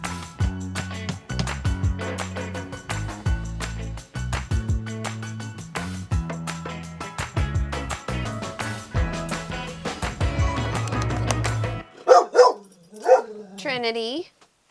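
A dog barks and yips in a few sharp, loud bursts near the end, after a stretch of music, inside a camper during a long off-grid stay.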